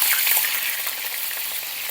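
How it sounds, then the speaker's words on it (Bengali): Small potato pieces frying in hot oil in a pan, with a dense, steady hiss and crackle that is loudest at the start and stays strong throughout. "তেল গরম হয়ে গেছে, আলুটা দিয়ে দিলাম।"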